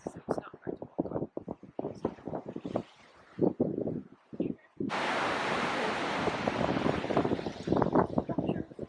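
Surf on the beach at Shiranuka, Japan, near breakwater structures, roars as a steady wind-blown wash that rises sharply halfway through, after earlier stretches where a voice speaks over faint background.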